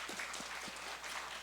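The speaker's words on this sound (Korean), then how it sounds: "박수 한번 보냅시다" A short, faint burst of scattered clapping from a crowd.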